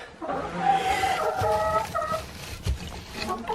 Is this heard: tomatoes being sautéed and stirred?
no